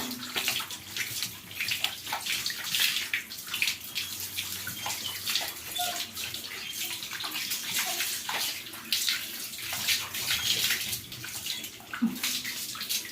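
Water pours from a hose pipe while a dog is bathed, a continuous close splashing rush that shifts slightly as the stream moves over the animal.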